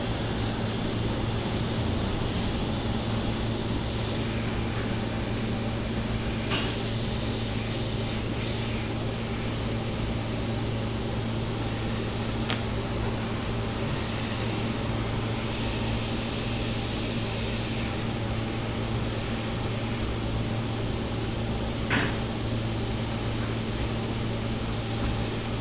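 Airbrush spraying paint over a resin pour, a steady close hiss running unbroken with a few brief bursts and a low hum beneath.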